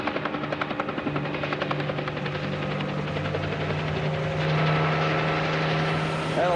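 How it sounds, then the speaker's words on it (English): A police helicopter hovers overhead above alleys and a field at night, its rotor thumping in a steady pulsing rhythm with a droning engine tone, loud and continuous. "right now we've got that helicopter above us"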